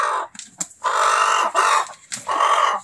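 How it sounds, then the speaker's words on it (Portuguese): A gray chicken clucking loudly and close, several drawn-out squawking calls in a row separated by short pauses, with no talking over them. "Galinha cinza."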